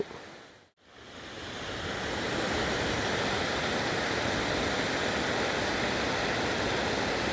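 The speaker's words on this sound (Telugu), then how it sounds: "వాటర్ అంతా ఈ విధంగా ఫ్లో అవుతూ" Steady, loud rush of water flowing at Thajangi Reservoir near Lambasingi, a continuous broadband roar after a brief dip at the start, with no voices.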